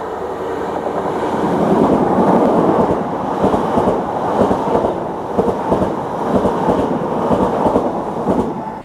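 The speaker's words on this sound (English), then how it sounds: "There is a train" A train rumbles loudly and continuously past through a station on the Liverpool–Manchester line, with rhythmic clattering of wheels over rail joints and no talking.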